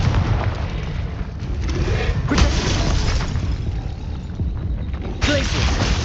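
Confringo blasting spell cast in Hogwarts Legacy, sounding as repeated heavy booming bursts over a constant rumbling game soundscape, with sharp swells near two and five seconds and a voice speaking faintly underneath.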